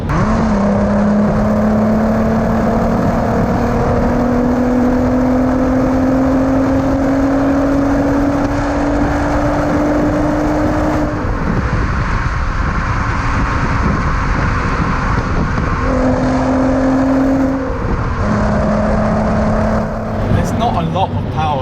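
A Volkswagen Mk4 R32 engine revs high to around 5,500–6,000 rpm and climbs steadily in pitch, dropping briefly between gears, with a person talking over the loud drone.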